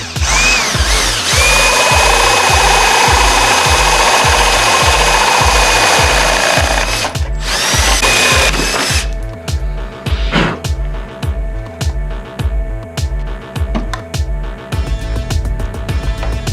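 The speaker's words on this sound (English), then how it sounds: "I'm going to drill the outer one for my heated grips." Power drill boring holes into a motorcycle handlebar for heated grips, a loud, close whine with rapid rhythmic pulsing that runs steadily, breaks briefly, then resumes in short choppy bursts.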